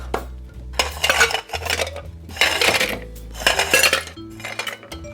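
Cut lime pieces dropped into a metal cocktail shaker for a Tommy's Margarita, heard as a few loud, close metallic clanks and rattles arriving in separate bursts.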